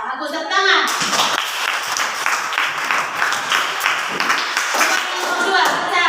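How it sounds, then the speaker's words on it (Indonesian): Students in a classroom clap for a group after their presentation, lively, close and loud hand claps rising right after a brief voice at the start and continuing steadily throughout. "Nah, bagus, tepuk tangan."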